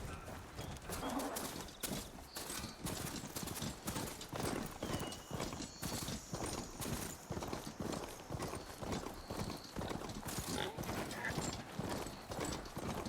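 A horse mount trotting in the video game Horizon Forbidden West, with continuous rhythmic clip-clop hoofbeats and an occasional whinny, plus light ambient birdsong.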